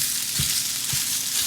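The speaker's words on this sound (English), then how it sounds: "Just gonna let this cook down with the onions." Sausage and onions fry in a pan with a loud, constant sizzling hiss, broken by two dull low knocks of a utensil breaking up the meat.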